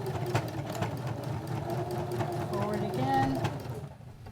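A sewing machine back-stitches across elastic on a beginner pocket pen holder, its motor giving a steady close hum over several seconds before trailing off, with a voice talking over it.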